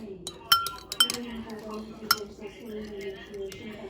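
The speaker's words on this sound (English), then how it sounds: "And now I whisk." Metal clinks and taps against a bowl in quick bursts as an egg is whisked, with soft stirring scrapes between them and a voice murmuring underneath.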